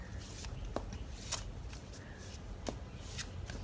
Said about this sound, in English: I'm also going to be shuffling a couple of cards on camera